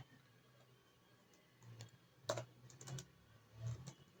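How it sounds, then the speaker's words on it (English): A computer keyboard is typed on in a few short bursts of quiet clicking keystrokes, faint and close after a near-silent opening. "You type in download"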